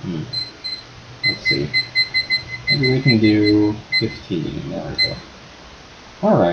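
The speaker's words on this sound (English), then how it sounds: "you can probably hear the beeping in the background" Repeated electronic beeping from a countdown timer, bright regular pulses in short clusters running under a man's speech throughout.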